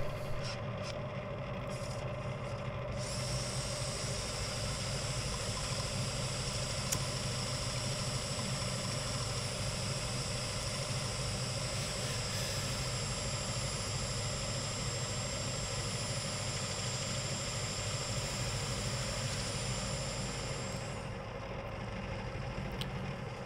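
A wood lathe with worn bearings turns a bowl, giving a steady, continuous mechanical whine and hum with a high ringing tone layered over it, close and unbroken for the whole stretch.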